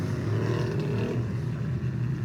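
A small race car engine of about 250 horsepower, painted to resemble a 1927 Indy 500 car, idles and burbles steadily nearby with a low, throbbing drone and no talk over it.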